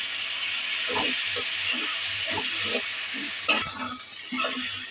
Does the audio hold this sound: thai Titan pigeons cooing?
no